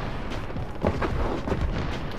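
Gunfire in a video game comes through as a dense, booming rumble of several muffled shots and blasts over a constant roar, loud and heavy throughout the short stretch.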